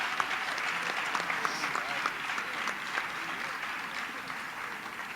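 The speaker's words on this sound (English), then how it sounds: "Let's give these two teams one more round of applause." Audience applauding for two teams on stage, a sustained, fairly distant wash of clapping from a crowd lasting the whole stretch, with a voice faintly over it.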